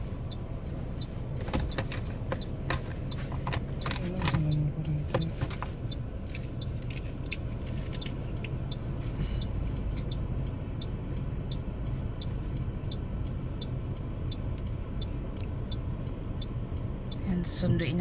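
Road traffic in the Philippines heard from inside a car during an early-afternoon school pickup: a steady low engine rumble with passing vehicles, small clicks and rattles throughout, and people talking over it.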